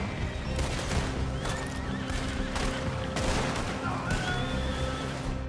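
Pistol gunfire in the Red Dead Redemption 2 video game, several sharp shots spread through a dense, steady game mix with a horse neighing and hooves among the clamor.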